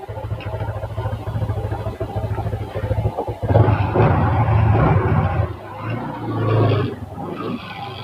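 A reconditioned motorcycle engine runs with a low throbbing idle that swells into a louder roaring rev partway through, then settles back to a rougher, uneven idle.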